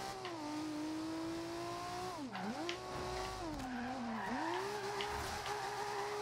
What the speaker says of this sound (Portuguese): Olha o som do motor!